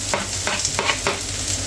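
Tuna with onion and egg cooking in a pan, a steady close sizzle broken by four rhythmic scraping strokes of a utensil stirring, with a low hum beneath.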